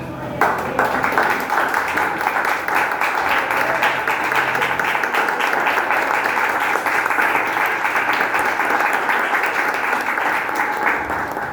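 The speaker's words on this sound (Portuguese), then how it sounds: "Aplauda Jesus por essa palavra." A church congregation applauds in a steady, dense wash of clapping that lasts the whole stretch, moderately loud and unbroken, with no talk over it.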